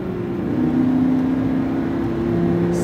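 A Lamborghini Huracán accelerates on a track at Speed Vegas, a steady engine drone with a rising tone heard from inside the car, continuous and moderately loud with no talking.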